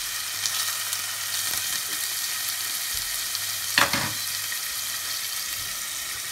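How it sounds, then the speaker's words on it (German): Meat for Geschnetzeltes sizzles steadily in a hot pan, a constant bright crackling hiss with a brief clatter of a utensil midway. "Das lassen wir jetzt da ordentlich anbraten."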